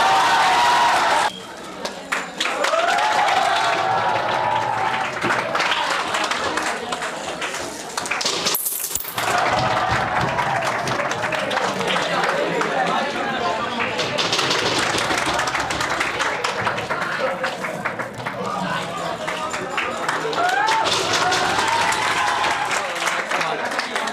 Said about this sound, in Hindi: जोरदार ताली करो।